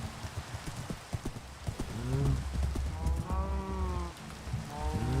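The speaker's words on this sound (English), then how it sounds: "Okay, come here, horse." Hooves of a horse in the video game Minecraft clip-clop steadily and close, joined by brief neighing snorts, with a soft, rain-like hiss throughout.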